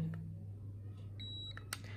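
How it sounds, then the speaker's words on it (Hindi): A cheap handheld infrared temperature gun gives a short electronic beep, a steady thin tone lasting about a third of a second over a low hum in a quiet room, followed by faint clicks. "तो आप बीप का जो साउंड है सुन सकते हो"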